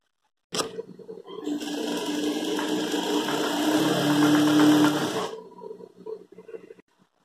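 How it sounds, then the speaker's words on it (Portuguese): An electric sewing machine runs in one continuous burst of about five seconds, stitching a fabric strip for a half-moon rug, a steady whirring hum that quickens slightly, preceded by a short click and followed by quiet handling sounds. "Primeiro, eu vou pegar e vou costurar essa faixa"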